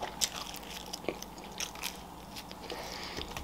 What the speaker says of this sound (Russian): пиццу жую